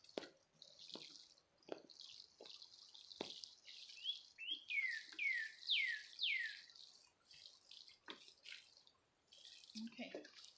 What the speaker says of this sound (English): And let's water those in.